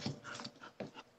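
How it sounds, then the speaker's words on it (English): A dog makes short whimpering and snuffling sounds, faint and close, in a few soft bursts over about a second with no talk. "speaking of puppies, hey, I have Zoe here"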